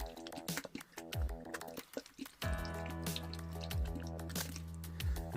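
Water sprayed or dribbled into a tarantula enclosure gives soft, close drips and a wet patter, heard over a continuous musical background.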